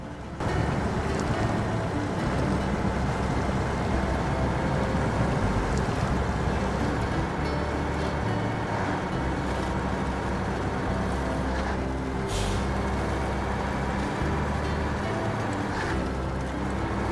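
A GAZ-66 truck in a video game ploughs through a very deep puddle of water, with continuous loud sloshing, splashing and engine rumble throughout.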